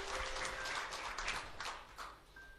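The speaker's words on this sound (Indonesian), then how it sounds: "Ini tepuk tangannya agak terpaksa dan bingung." Scattered, hesitant applause from a church congregation during a sermon, fairly faint and uneven, with clusters of claps rising and fading over a couple of seconds.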